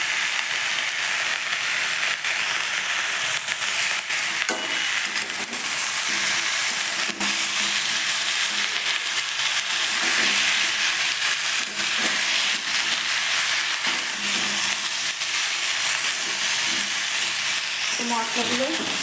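Spices with Kashmiri chilli and vegetables sizzle steadily in a hot pan while being stirred, a constant close hiss of frying with occasional scraping of the spoon.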